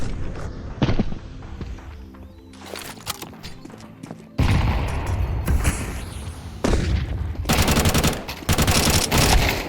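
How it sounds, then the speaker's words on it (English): Rapid gunfire bursts and sharp bangs in Counter-Strike 2 during a pop-flash retake of Banana, with dense clustered shots and a loud flashbang-like burst partway through, no voices. "he's going to set up for another pop flash to retake Banana"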